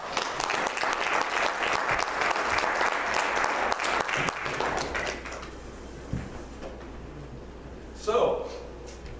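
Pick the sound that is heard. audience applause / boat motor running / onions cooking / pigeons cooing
audience applause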